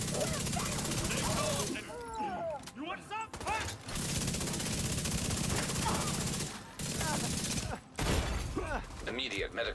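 Gunner turret in The Division 2 firing sustained machine-gun bursts, loud and close, broken by brief pauses amid game clutter and a talking voice.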